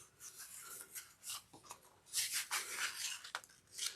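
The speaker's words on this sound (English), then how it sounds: "Kind of just finger press it" Fingers rubbing and pressing a sewn fabric bag pocket, making soft, close rasping and brushing sounds in irregular strokes.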